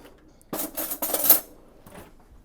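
A small metal spoon clinks and scrapes against a dish while stuffing mix is stirred, a burst of several close, bright clatters lasting about a second, followed by a softer tap in a quiet kitchen.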